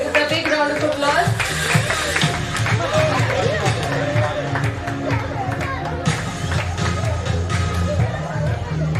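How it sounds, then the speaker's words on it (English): An audience at an international school graduation ceremony claps steadily as a student is welcomed, a continuous dense patter of many hands mixed with crowd chatter and murmuring voices throughout. "Let's welcome her with a big round of applause."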